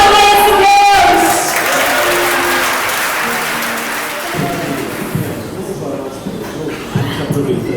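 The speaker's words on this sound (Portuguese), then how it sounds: "Aplauda esse Deus." A church congregation applauding, loud sustained clapping and crowd noise that gradually thins, with a few voices and musical tones underneath.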